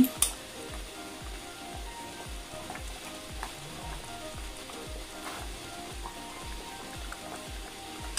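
Potatoes cook in a little oil with a low, steady sizzle while a utensil scrapes the pan in a regular, rapid rhythm of short strokes, close up and with no one speaking.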